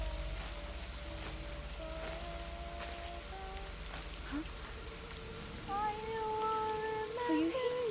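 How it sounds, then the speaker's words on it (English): Steady rain hisses and patters throughout a scene in the horror game Fatal Frame: Maiden of Black Water, with faint tonal game sounds rising over the downpour near the end. "We actually do have a really big problem though, because it's raining."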